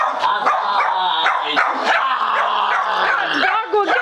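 A dog barks and yips repeatedly at close range during an April Fools' prank, the barks dense and loud throughout, mixed with people's voices.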